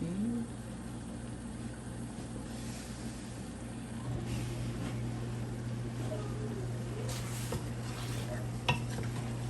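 Curry chicken is stirred in a pan, a steady scraping and shuffling of spoon against metal over a constant low hum of the stove, with occasional light clinks, close and moderately loud with no talking.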